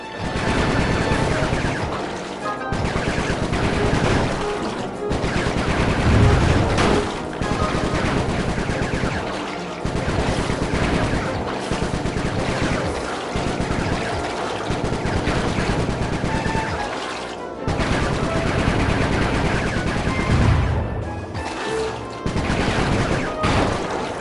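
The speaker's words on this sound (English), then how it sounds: "Nice shooting, Bentley." Bursts of rapid automatic gunfire from combat in the video game Sly Cooper 3 rattle loud and close in repeated volleys, separated by brief pauses and mixed with occasional crashes and booms.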